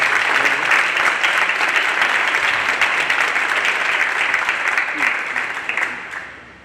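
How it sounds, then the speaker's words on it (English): An audience at a circular economy hotspot event in South Africa applauds the competition participants, a dense sustained round of clapping from a crowd that holds steady and then fades out at the end. "I think we would have a round of applause for all the participants before we go."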